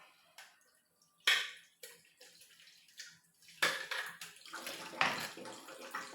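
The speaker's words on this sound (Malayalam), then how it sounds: "ജാറ് കഴുകുന്ന വെള്ളം" Water splashes and swirls into a mixer jar being rinsed, several bursts of pouring and sloshing separated by short quiet gaps, close and moderately loud.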